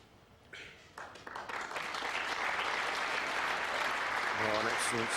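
A capacity crowd at the 2002 World Snooker final breaks into applause after a safety shot by Peter Ebdon, the clapping swelling from a few scattered claps into a dense, sustained ovation, with a commentator's voice coming in near the end.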